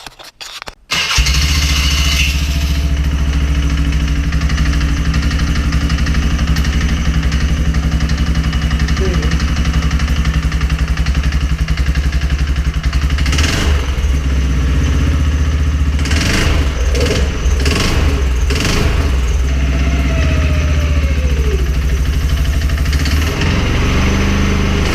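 A 2016 Can-Am Outlander 450L ATV engine, clutch cover off after a belt change, starts up and runs loud and close with a steady idle rumble, a few throttle blips partway through, no speech.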